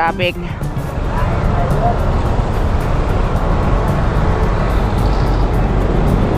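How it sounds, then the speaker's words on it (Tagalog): Dense road traffic heard from up close, a loud continuous roar of engines and tyres with a constant wash of noise throughout, and a brief voice at the very start. "Grabe yung traffic."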